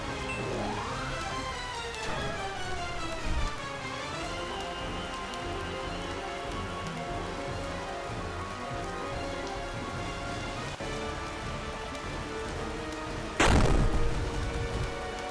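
Rain Shock spell effect from the video game Horizon's Gate, a steady hiss of rain layered over game music, ending in a sharp burst near the end.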